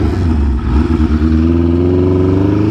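A Ducati Panigale motorcycle engine runs close by, loud and steady with a deep, even throb and no voices.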